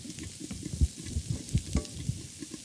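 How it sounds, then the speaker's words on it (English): Brussels sprouts being stirred in a hot pan, with a steady close sizzle and repeated soft scrapes and knocks of the utensil. No voices. "Okay, so I'm going to stir the Brussels sprouts."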